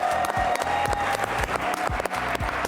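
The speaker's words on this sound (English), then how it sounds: "Please give her a big round of applause." At the Cowbellpedia grand finale, a quiz-show studio audience applauds a departing contestant with continuous clapping, while a thudding music beat and a sustained tone play beneath it.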